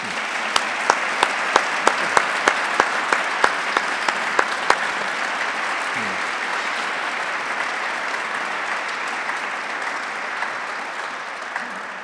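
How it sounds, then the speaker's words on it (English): An audience applauds a discussion panel at a science and faith dialogue event, steady clapping that begins with a few distinct claps and swells into sustained applause for about twelve seconds. "who I think is owed a very big round of applause."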